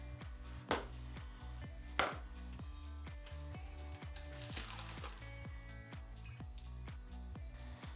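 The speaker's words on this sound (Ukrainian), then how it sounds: "Відрізаємо кусочок пирога і кладемо його на тарілку." A knife cuts repeatedly through an almond-orange polenta cake against a board in steady, soft strokes, with a couple of sharper taps near the start over a low background hum.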